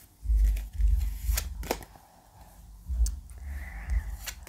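Tarot cards being shuffled and drawn from a deck, several close soft riffling bursts with thumps and slides of card stock between them.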